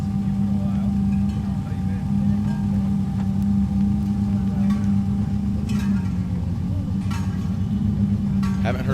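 A Subaru Boxer-engined race car at the Pikes Peak hill climb drones loudly and steadily throughout, its engine note holding close and continuous beneath brief sharper noises.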